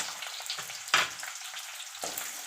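Onions, dried red chillies and garlic sizzle in hot oil, with a steady broadband fry broken by a few sharper bursts as ingredients are stirred or tossed in, close and moderately loud with no talking.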